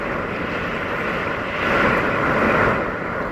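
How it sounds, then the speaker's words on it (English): A strong wind gust buffets an RV, a broad rushing roar that swells louder midway and then eases, with no voices. "Ooh, another one. Another big gust."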